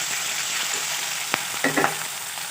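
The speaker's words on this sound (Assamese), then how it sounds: "পিঁয়াজখিনি অকণমান ভাজি ল'ম।" Chopped onions fry in a pan for an Assamese fish curry, a soft continuous sizzle with a sharp utensil knock and a brief scraping stir near the end, heard alone without talk.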